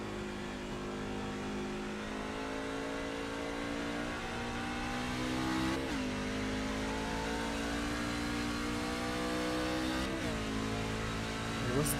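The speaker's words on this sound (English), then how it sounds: "Listen to the RPMs as he comes off the corners here to see how much that truck is really sliding around here." A race truck engine in iRacing's Morriss Customs Truck Series at Watkins Glen drones steadily, its pitch dipping and rising sharply twice as the truck slides off corners and revs back up, with a constant loud mechanical hum throughout.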